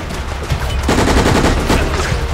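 Dense, rapid gunfire rattles nonstop during a firefight in the video game Operation Raccoon City, with loud overlapping bursts and shots close up throughout.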